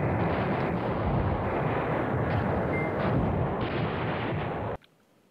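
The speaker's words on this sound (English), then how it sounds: "Let them keep bombing until they fall out of." Tanks come under bombardment in the wartime strategy game Command Ops 2, a dense, continuous roar of artillery blasts and rumbling explosions that cuts off abruptly near the end.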